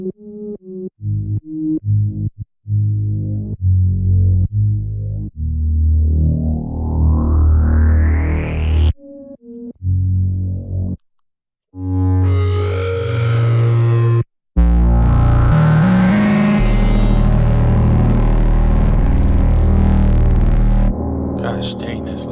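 Loud, distorted textures from an Arturia synth preset pack called Rust: buzzing, sweeping tones that rise and churn, broken by short gaps between gritty, noisy passages.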